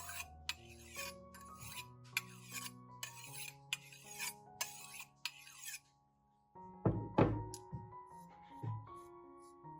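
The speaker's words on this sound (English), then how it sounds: "Use the knife to sharpen the blade against the bowl." A knife blade is sharpened against the bottom of an upturned bowl in a run of short, rhythmic rasping strokes, close and fairly loud, followed by a clink and a brief scrape.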